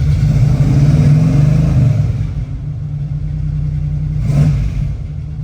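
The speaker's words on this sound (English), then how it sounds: "We've got headers and true dual exhaust on this car, and boy, it does sound nice" A 1980 Chevrolet Camaro Z28 V8 with headers and true dual exhaust revs up with a deep, throaty exhaust rumble, then settles into a steady idle before a brief blip of the throttle near the end.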